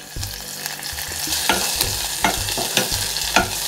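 Spices crackle and sizzle as they are tempered in hot oil, with scraping stir sounds and sharp popping bursts repeating throughout, close and fairly loud.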